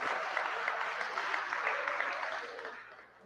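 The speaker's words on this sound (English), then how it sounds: "Yeah, you can clap." A lecture audience breaks into clapping, a dense, fairly loud patter of many hands that holds for a couple of seconds and then fades away.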